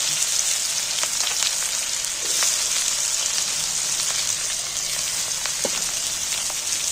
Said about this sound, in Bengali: এবার তেলের মধ্যে পেঁয়াজগুলোকে একটু ভেজে নেব